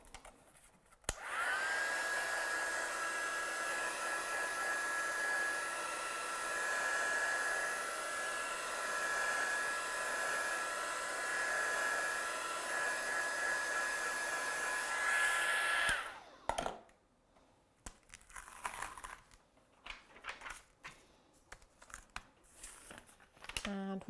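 A heat gun drying ink on a craft stamp blows a loud, steady rushing whoosh for about fifteen seconds, then cuts off abruptly, followed by scattered close crinkling and handling noises.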